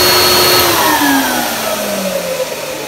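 A restored 1998 Dyson DC01 De Stijl limited edition vacuum cleaner with a new motor shell and freshly greased bearings runs loudly and steadily, its motor whine holding a strong, even drone close by with no talking.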